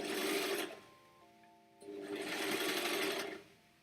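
An overlocker stitches fabric in two loud close bursts of rapid whirring, separated by a quieter pause, with no talk.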